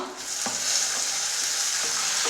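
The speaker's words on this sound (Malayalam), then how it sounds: "ഇനി അതിലേക്ക് നമുക്ക് മുറിച്ച് വെച്ച തക്കാളി കഷ്ണങ്ങൾ ഇട്ട് കൊടുക്കാം" Chopped tomatoes land in a pan of browned onions for a Kerala carrot mezhukkupuratti and sizzle loudly and steadily. Light scrapes of stirring come through now and then, with no voices.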